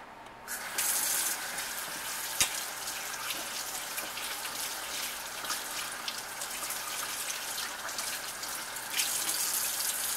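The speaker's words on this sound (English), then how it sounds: "I'm gonna wash my hands off real quick, and then I'll show you." Water from a kitchen or bathroom tap runs steadily into a sink while hands are washed beneath it, a continuous close splashing hiss with small shifts in the flow and a brief knock partway through.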